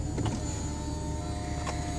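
A soft convertible top on a car powering up with a steady electric motor whine and hum, a few faint clicks near the start and end, close and continuous with no talking.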